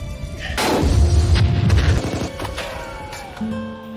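A loud film explosion from an RPG strike destroying a helicopter booms and crashes close up, followed by rumbling and scattered debris sounds that fade out over a few seconds.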